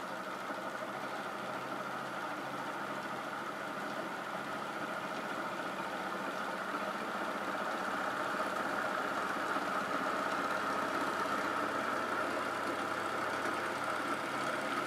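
A motor spinning a rotating mass at around 900 RPM gives a steady, continuous mechanical hum with a strong tonal band, constant in level throughout and heard alone without voices.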